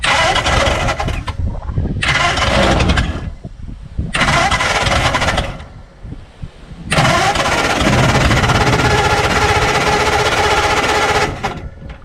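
A 1952 Ford F1 with a long-idle flathead engine cranks in several loud bursts, then catches and fires, running roughly and unevenly for several seconds before cutting out.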